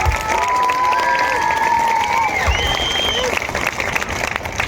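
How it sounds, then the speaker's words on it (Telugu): An audience at a school annual day celebration breaks into applause and cheering, and whistles and children's shouts rise over a dense crowd wash that runs throughout. "గట్టిగా క్లాప్స్ కొట్టాలి."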